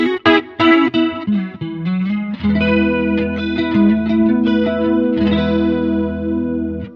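Electric guitar chords and picked notes run through a swirling modulation effect on a Zoom MS-50G multi-effects pedal, lush and wavering, starting with choppy strums then settling into sustained ringing chords.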